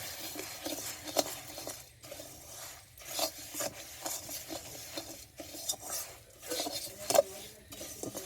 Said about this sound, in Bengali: এবারে এর মধ্যে আমি ভাজা চিড়েটা দেবো, আর অনবরত নাড়তে হবে।